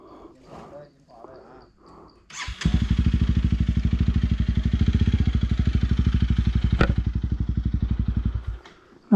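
A Honda CRF300L motorcycle engine starts with a sharp catch and settles into a loud, steady, close thumping idle, then cuts off; people talk briefly before it starts.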